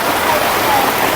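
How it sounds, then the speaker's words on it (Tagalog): Very heavy rain pours steadily onto surfaces in a dense, loud, continuous hiss, with no breaks or separate drops standing out. "Sobrang lakas po ng ulan."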